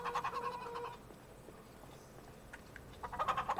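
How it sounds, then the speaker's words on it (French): Chickens in a farming video game cluck and squawk in short rhythmic bursts, fairly faint, with a quieter stretch between two clusters of calls. "Donc là, j'ai remis des poules."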